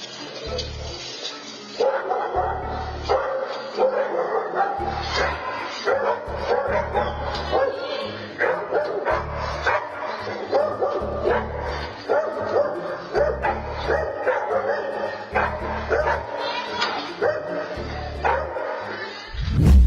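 Guard dog barking at an intruder, loud repeated bow-wow barks and yips in a steady irregular rhythm across the whole stretch, with occasional whimpers and music or voices faintly underneath.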